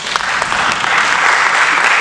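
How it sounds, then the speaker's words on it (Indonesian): Audience applause for Pak Karsono, a dancer from the Ramayana Prambanan ballet, at a Javanese dance seminar and performance; steady dense clapping holds at an even loud level throughout with no voices over it. "Tepuk tangan buat Pak Karsono."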